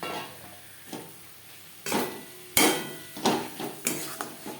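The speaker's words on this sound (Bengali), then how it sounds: "মশলার সাথে চিংড়ি মাছ বেশ ভালো করে মিক্স করে দেব চিংড়ি মাছ হালকা করে ভেজে নেব" Shrimp coated with ground spices is stirred while frying in a pan for a Bengali potol chingri dish. About six separate scraping strokes cut through a low, soft sizzle, growing slightly louder toward the end.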